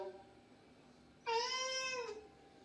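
A house cat gives a single clear, fairly loud meow lasting under a second, set against a quiet room with no talking.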